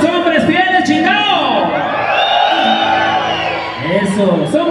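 A crowd of men at a wedding party in Ciudad Neza shouts and whoops loudly together, with overlapping yells and cheering up close.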